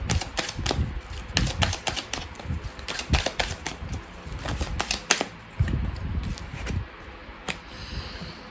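Oracle cards shuffled and drawn in rapid bursts of crisp riffling clicks and flicks, close and fairly quiet, with short pauses between handfuls.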